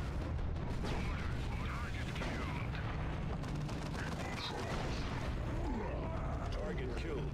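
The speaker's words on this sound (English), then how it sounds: "the autocannon is just too good" Autocannon fire in the Warhammer 40,000 strategy game Dawn of War 2, heard as a dense, continuous roar of rapid booming shots and battle noise, loud and unbroken throughout.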